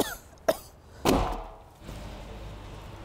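An allergy-prone woman coughs amid fine dust and yellow dust while cleaning her car in spring: two sharp, close coughs, the second longer and harsher, followed by quiet room tone.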